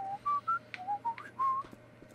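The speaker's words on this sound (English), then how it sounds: "You whistle while you work" A character whistles a short, cheerful tune of clear pure notes while working in Grand Theft Auto V, several brief phrases rising and falling, close and alone over a low steady hum.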